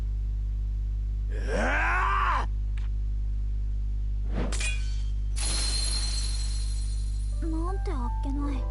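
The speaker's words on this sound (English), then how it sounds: "It sounded like a glass vase shattering." A glass vase shatters in the video game Atelier Ryza, with a bright crash around the middle of the stretch, set among game music, voice-like sighs and chimes.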